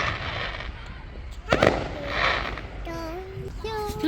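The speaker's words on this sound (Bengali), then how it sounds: "এখন হচ্ছে বিকেলবেলা, আমাদের বাসার সামনে ফায়ার ওয়ার্কস হচ্ছে।" Fireworks bursting outside a house in London on Bonfire Night, a sharp loud bang midway among distant crackles and pops, with voices talking around them.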